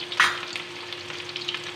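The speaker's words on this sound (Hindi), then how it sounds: "तेल हो गया है गर्म, अब हम इसमें डालेंगे कटी हुई प्याज" Chopped onion and panch phoron drop into hot oil with a sharp burst of sizzling, which settles into a steady crackling fry over less than two seconds, with no talking.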